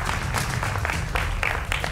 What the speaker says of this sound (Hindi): जोरदार तालियों से उनका अभिनंदन है